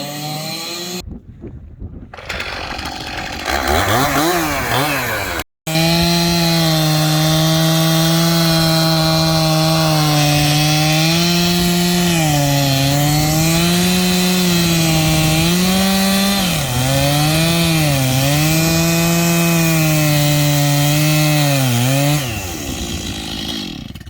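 A chainsaw cuts through the bottom of a bonsai tree trunk, its loud close engine whining and shifting pitch as the chain bites into the wood, running almost continuously after a brief start and a momentary cutout.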